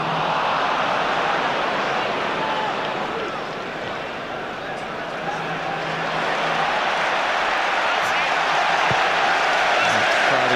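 A football stadium crowd at an Arsenal versus Manchester United match gives a steady, dense roar that dips briefly and then rises again, with a commentator talking over it throughout.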